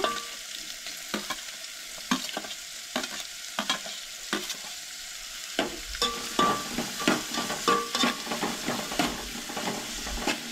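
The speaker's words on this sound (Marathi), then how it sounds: "कांदो आणि मिरसांग बरी परतून घेवंक जाय." Onion and chillies sautéing in oil for a Goan dry prawn curry, a steady close sizzle broken by repeated sharp scrapes and clatters of a spoon stirring in the pan, growing busier toward the end.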